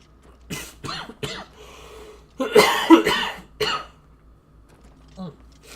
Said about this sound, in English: Sorry about coughing in the microphone there.